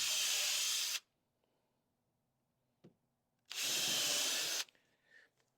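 A power drill driving screws into deck boards whirs in two short bursts, each about a second long, separated by a pause with a faint tap.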